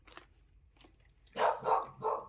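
A dog barking three times in quick succession, loud and fairly close, after a quiet stretch with faint background sounds and no talk.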